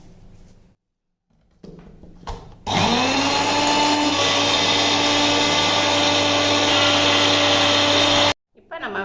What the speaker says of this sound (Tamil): இப்போ நம்ம மிக்சியில் அடிச்சாச்சுப்பா